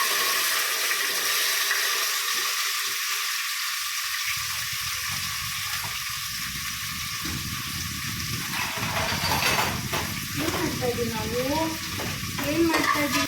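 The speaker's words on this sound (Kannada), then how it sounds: "ಇದನ್ನೆರಡು ಜೊತೆ ಸೇರಿಸ್ಕೊಂಡು ಫ್ರೈ ಮಾಡ್ಕೊಳ್ತೀನಿ" Onion, garlic, ginger, tomato, cinnamon and cloves fry in a cooker for a chicken sambar masala, starting as a quieter hiss, then a louder sizzle with stirring and some clatter near the end.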